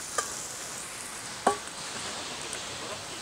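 Steady sizzling of squid and fish frying for paella in a kazan over a campfire, a constant hiss with a few light clinks of a utensil stirring.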